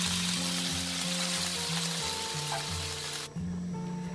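Shrimp and glass noodles sizzle in a hot pan, a loud, dense crackle with a low hum beneath that drops off abruptly near the end.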